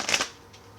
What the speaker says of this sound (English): I'm just going to shuffle it again